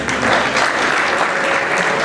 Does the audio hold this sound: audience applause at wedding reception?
yes